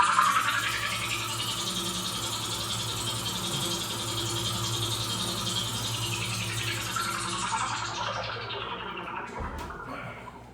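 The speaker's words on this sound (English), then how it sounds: "every time their magic ship would fly from strata to strata, it would make this synthesizer sound" Korg Poly 800 synthesizer spaceship effect: a loud, buzzing, rattling sweep that swells bright, holds steady with a pulsing low drone, then sinks and fades, with a couple of short clicks near the end.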